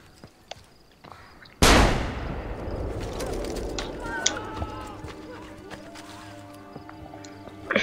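A single sharp pistol shot rings out in Assassin's Creed Brotherhood gameplay, a loud sudden crack followed by a decaying echo and game ambience, with footsteps and faint clicks around it.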